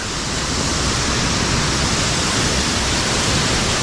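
A waterfall on the road toward Jomsom in Mustang, a loud, steady, broadband rush of falling water close by, unbroken and with no voices.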